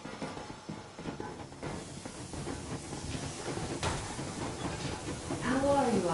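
A steam train in the video game Metro rumbles and hisses steadily as it moves along the rails, a continuous mechanical chugging bed that swells louder toward the end, with game voices speaking over it.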